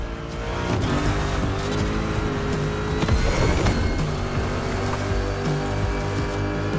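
A Mustang racing through swamp water in The Crew Motorfest, engine droning steadily at close range with water churning and splashing under the wheels, continuous and loud throughout.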